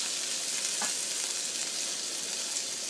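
Steady, dense sizzling of potatoes frying in a hot, smoking pan, a constant crackling hiss throughout with no voices.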